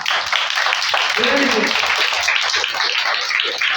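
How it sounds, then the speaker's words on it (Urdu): Audience applause for a child's performance at an Independence Day celebration show, a loud burst of dense clapping filling the whole moment, with someone speaking briefly over it. "میں چاہتا ہوں اس کے لیے سب لوگ بھرپور تالیاں بجائیں زور سے"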